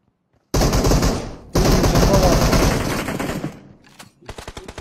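Loud, dense gunfire in the mobile battle-royale game PUBG Mobile: near-continuous automatic bursts for several seconds, a brief gap, more sustained firing, then a few separate sharp shots at the end.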